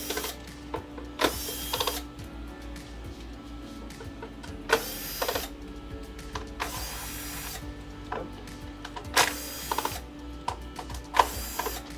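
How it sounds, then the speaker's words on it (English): Plastic screws being backed out of the rear panel of a Sony XBR-55X900C television, heard as bursts of ratcheting driver clicks separated by quiet pauses, close and fairly soft, with no one speaking. "And then now these screws I'm taking off right now are not machine screws, they're plastic screws"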